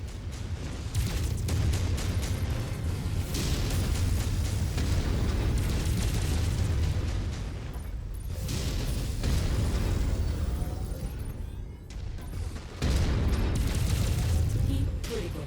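Mech weapons firing and explosions in the video game MechWarrior 5: Mercenaries, a dense, continuous roar of blasts and bursts with a few abrupt drops. Sparse radio-style voices come through underneath.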